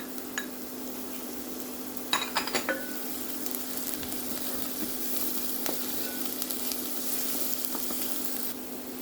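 Garlic frying in oil in a pan gives a steady, even sizzle throughout, with a few brief clinks of a utensil against the pan near the start.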